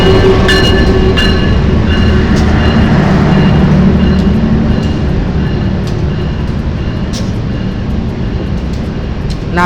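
A passenger train hauled by locomotive 20656 on the Jakarta–Cirebon line rumbles steadily at night, close and loud, with clattering wheels, a sustained hum and scattered metallic squeals and clicks, no talk.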